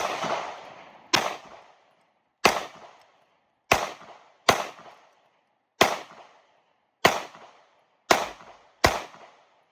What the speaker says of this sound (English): so I'll shoot half and give Ben the other half.